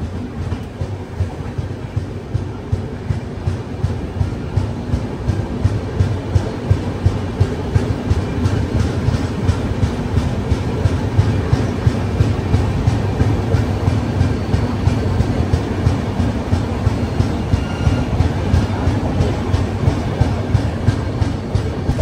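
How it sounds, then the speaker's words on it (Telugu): Bangalore to Chennai double decker express train moving out from Bangalore Cantonment, heard from onboard as a steady loud rumble with regular rhythmic clickety-clack of wheels over rail joints throughout. "బెంగళూరు కంటోన్మెంట్ నుంచి మన ట్రైన్ అయితే బయలుదేరిపోయింది"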